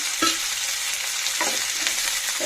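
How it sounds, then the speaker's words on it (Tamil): Onions and tomatoes sautéing in hot oil in a pan for a fish kulambu, a loud continuous sizzle broken by a few sharp spatula scrapes and stirs, close up with no talking. "இப்போ வந்து நம்ம வந்து இந்த 3 தக்காளி போட்டு வதக்கிடலாம்."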